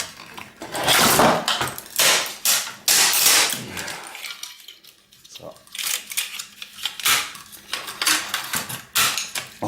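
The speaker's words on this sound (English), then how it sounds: "Okay, so we'll remove the fan." Fan being unscrewed and pulled from the back of an old projector: a series of loud, close metallic clatters and plastic knocks with rattling parts, speech heard alongside, then a short quieter stretch before more handling knocks.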